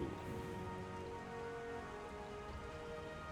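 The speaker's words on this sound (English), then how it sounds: "it's raining outside" Steady rain falls outside as the backdrop to a tabletop fantasy game session, a dense, even patter of drops with no voices over it.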